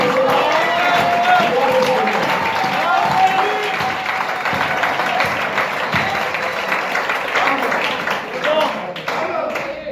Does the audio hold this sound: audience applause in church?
yes